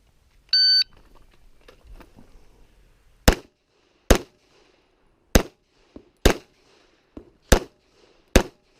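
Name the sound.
pistol shots during an IDPA shooting match stage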